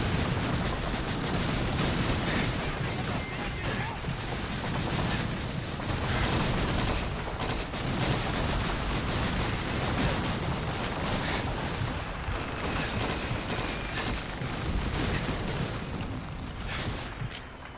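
Call of Duty 2 battle at Pointe du Hoc: a Thompson submachine gun and anti-aircraft guns pound away in a dense, nonstop barrage of gunfire and explosions, loud and continuous for the whole stretch, with no voices.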